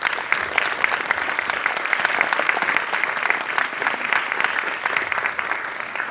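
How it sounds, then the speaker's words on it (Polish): An audience applauds at a silent film festival's opening, thick even clapping from many people that stays at a steady level throughout. "Prosimy Państwa o oklaski."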